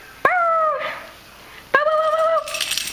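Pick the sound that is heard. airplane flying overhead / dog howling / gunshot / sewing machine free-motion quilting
dog howling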